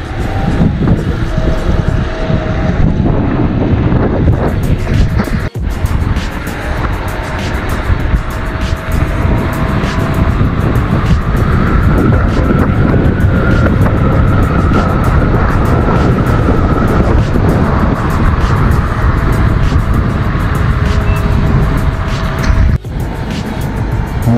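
Motor scooter riding in a convoy on a road in Kuwait: a loud, constant engine drone with heavy wind rushing over the microphone, steady for the whole ride with a couple of brief bumps.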